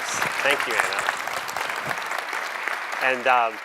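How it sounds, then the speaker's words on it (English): Audience applause at a health care conference panel fills the room as a broad, steady clatter of clapping, with someone speaking over it near the end. "Let's give them a round of applause."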